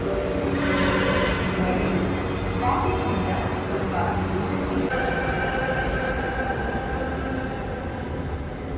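A Bengaluru Metro train running, with a steady close rumble and rushing hiss from inside the carriage throughout, tonal hums shifting as it moves, under faint announcement-like voices.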